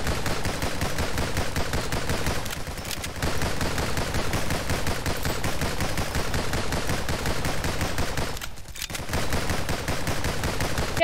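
Rapid pistol gunfire in the NIMRODS demo, a steady stream of sharp shots fired almost continuously and loud throughout, broken by two brief pauses.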